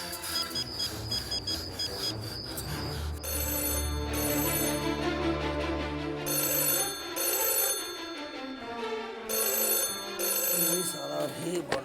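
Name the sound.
telephone ringing, calling the police station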